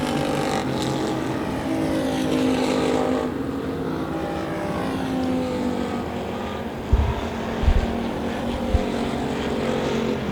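Factory stock race cars roar past on the Devil's Bowl Speedway oval, a sustained loud drone of several engines swelling and fading, with sharp bursts of revving near the end.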